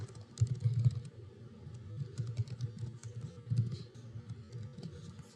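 Keys clatter on a computer keyboard in a quick, uneven run of close, soft clicks that fills the whole stretch without any talk, as someone types in their name and email address to register online.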